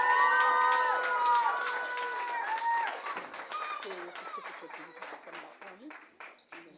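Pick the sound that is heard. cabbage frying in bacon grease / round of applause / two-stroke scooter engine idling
round of applause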